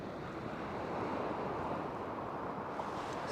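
A southerly wind blowing on a fishing beach, a continuous broadband rush mixed with surf wash, moderately faint and steady with no speech.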